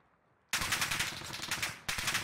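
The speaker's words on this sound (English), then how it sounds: "Somehow he's shooting me right now." Sustained automatic gunfire from an enemy player in a first-person shooter video game, a rapid close burst that breaks briefly and resumes, loud over a quiet start.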